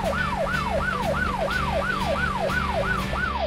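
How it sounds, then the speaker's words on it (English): Wailing emergency vehicle siren in a children's pretend-play jobs cartoon, sweeping up and down in a steady rapid cycle about twice a second, loud and continuous over a low engine-like hum with no talking. "That's the siren."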